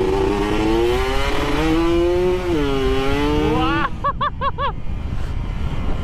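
A road race motorcycle fitted with a Killer Whale aftermarket exhaust revs loudly and close, its engine pitch rising and falling in sustained pulls before a quick burst of four or five sharp throttle blips.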